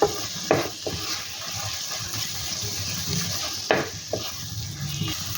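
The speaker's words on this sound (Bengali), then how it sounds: "এবার আমি এর মধ্যে অ্যাড করে দেব কাশ্মীরি রেড চিলি। এটিকেও ভালো করে মিশিয়ে নেব।" A spoon stirs Kashmiri red chili into sizzling oily masala for a green jackfruit curry, with a few sharp scrapes and knocks against the pan over a steady frying hiss.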